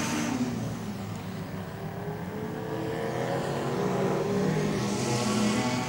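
Enduro race cars roar around the Archerfield Speedway oval, a dense, steady engine din that swells and recedes as cars pass, with crowd-like wash and no voices.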